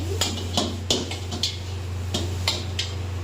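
Vegetable chow stirred in a pan with white pepper, black pepper, sugar and salt, a spatula clanking against the metal in irregular sharp knocks over a steady low hum.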